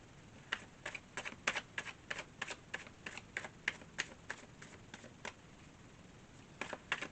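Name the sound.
shuffling tarot cards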